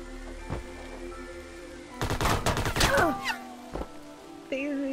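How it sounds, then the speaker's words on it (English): A machine gun fires in the video game Farworld Pioneers, a short rapid burst of shots mid-clip among scattered thuds and other game sounds. "Daisy has a machine gun."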